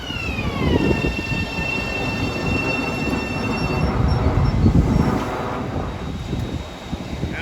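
Commuter train at New Hyde Park station during the evening rush, a loud rumble of rolling cars with high squealing wheels and a fading tonal whine, sustained and nearby.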